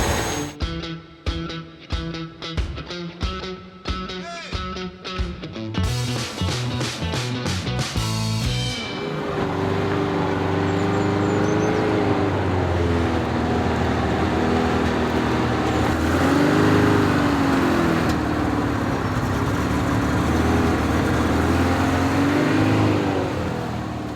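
A van engine idles and warms up after starting, a steady mid-pitched running hum that comes in after a stretch of rhythmic, music-like beats and stays close and even to the end.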